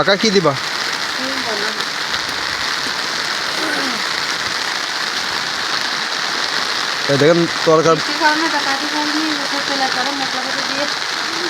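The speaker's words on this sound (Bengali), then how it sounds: "এখন বৃষ্টি হচ্ছে তো ওগুলো দেখাতে হবে না।" Steady rain pours onto a rooftop where a meal is being cooked, a dense, even hiss that runs the whole time while people talk over it.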